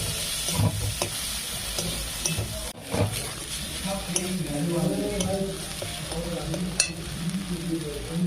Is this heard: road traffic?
no